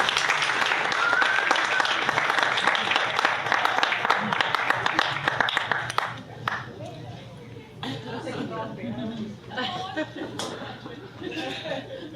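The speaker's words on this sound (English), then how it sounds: "Let's do a big round of applause." Audience applause at a community college graduate reception fills the first six seconds with dense, loud clapping and cheering, then fades into chatter and laughter with voices talking.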